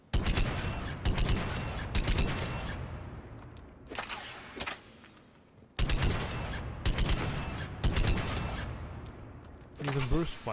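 Argus burst-fire rifle in Mass Effect 3 cracks out in repeated loud bursts of rapid shots separated by short pauses, close and punchy throughout.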